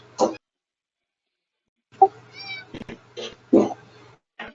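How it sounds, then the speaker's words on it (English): A house cat meows several times in a quiet room during a live electronics repair stream, short close calls spaced apart with faint hum between them. "No, that was my cat."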